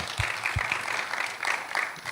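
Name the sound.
audience applause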